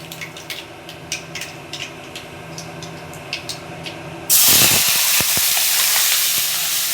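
Mustard seeds crackle and pop in hot oil, then a loud, steady sizzle bursts in as ivy gourd drops into the pan and keeps frying close by.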